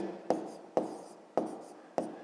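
A pen or pencil writes a sum by hand on paper, with four short distinct strokes spaced about half a second apart, close and fairly quiet.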